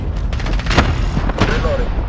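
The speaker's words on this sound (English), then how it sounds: "Friendly cluster strike inbound." Cluster-strike explosions in a team deathmatch shooter game on the Rammaza map: a rapid series of sharp booms, two strongest bursts standing out, over continuous battle noise with some talk mixed in.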